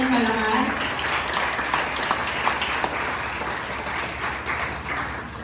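A congregation at a Sunday church service applauds loudly, a dense, sustained wash of clapping filling the room from start to finish.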